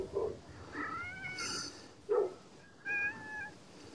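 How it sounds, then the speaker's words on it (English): A cat meows several times in short bursts, fairly close and clear, with quiet room noise between the calls and no talking. "oh, kitty, another cat."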